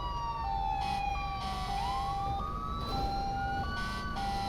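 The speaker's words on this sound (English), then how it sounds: "You can turn off your siren now!" Police siren wailing continuously in a roleplay game, rising and falling in a steady two-tone pattern over a constant rumble of a moving vehicle, loud and close with no talk.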